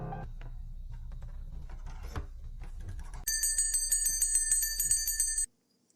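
A bright, rapid metallic bell rings continuously for a couple of seconds after some quiet rustling, then stops abruptly.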